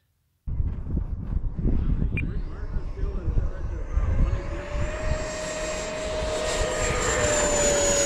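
A 90mm electric ducted fan RC jet whines loudly, its rising, steady high-pitched roar building from an abrupt start and swelling over several seconds as the model flies, with a voice briefly audible early on.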